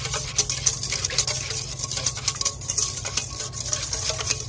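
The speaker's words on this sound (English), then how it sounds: "I'm just going to whisk it up." A whisk beating slaw dressing for broccoli slaw in a bowl, quick rhythmic ticking and clinking against the sides that runs steadily without pause.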